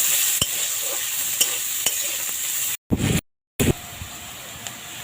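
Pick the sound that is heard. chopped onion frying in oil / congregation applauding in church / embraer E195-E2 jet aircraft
chopped onion frying in oil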